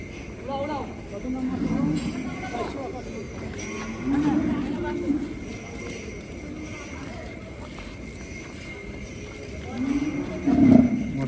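Sahiwal cattle low a few times at intervals, moderately close, amid a busy outdoor cattle market with people talking.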